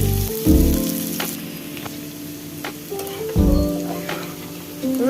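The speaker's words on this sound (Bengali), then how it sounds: "রসুন পেঁয়াজ ভালো করে ভেজে নিতে হবে।" Chopped onion and garlic with a bay leaf fry in oil for vegetable khichuri, giving a steady loud sizzle that surges twice when the pan is stirred, with no talking.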